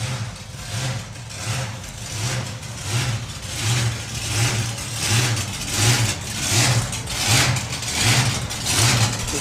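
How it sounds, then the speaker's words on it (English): A supercharged drag racing car at a Ford show drag meet revs hard in a steady rhythm of loud, rising bursts, its engine throbbing again and again with a raw, mechanical roar. "another one of them noisy supercharged cars coming around the corner"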